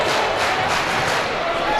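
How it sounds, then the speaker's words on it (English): A loud, dense crowd roars and cheers throughout at a high school girls' basketball game, Gresham at Barlow, filling the whole brief moment with broad noise. "She's got the crowd into it"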